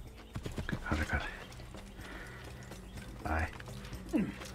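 A horse in the Assassin's Creed video game on Xbox 360 clip-clops along at a run, with a couple of louder hoof bursts and a short whinny near the end, set against game ambience.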